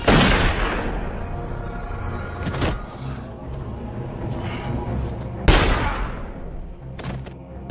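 Gunfire in a dramatic film scene: two loud, sharp gunshot blasts several seconds apart, each with a booming tail, separated by quieter rumbling and scattered smaller cracks.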